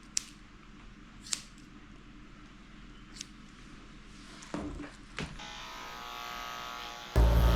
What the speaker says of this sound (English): I'm coming in with my 40 blade, which is very short, and I'm shaving the corners of her eyes.